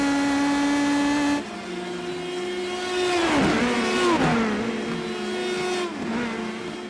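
An Indy Pro 2000 race car screams through a street circuit in iRacing, engine note held high, then dropping and sweeping up and down through gear changes and braking, loud and close, with no talking.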